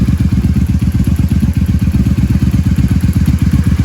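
A 1997 Honda Magna 750 (VF750C) V4 motorcycle engine idles close by, a loud, steady, lumpy low rumble with rapid even pulses and mechanical clatter that holds unchanged throughout.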